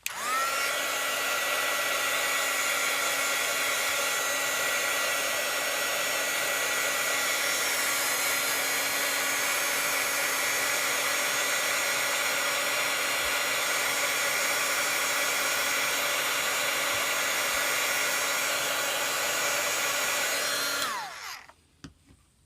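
A hair dryer blows steadily and loudly up close over a wet watercolor painting of a sunflower field, running unbroken for about twenty seconds before switching off abruptly near the end.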